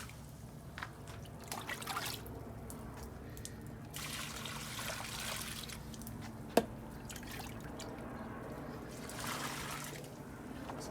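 Water trickles out through the bottom of a dragon fruit plant pot after feeding, a soft continuous dribble with scattered faint drips and one sharp click, heard close and alone against a quiet outdoor background.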